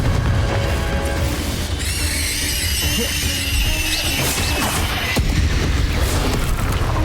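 In Hogwarts Legacy on Nintendo Switch, the Confringo fire spell lands with loud crashing booms and sharp bursts over a dense rumbling background, with no voices.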